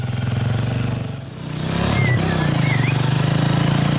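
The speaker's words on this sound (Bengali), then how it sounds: "গাড়ির ইঞ্জিন খুব গরম হয়ে গেছে তো, তাই একটু আস্তে চালি" A motorcycle with an overheated engine runs slowly at low revs, a steady throbbing putter close by that swells slightly midway, with a faint bird chirp over it.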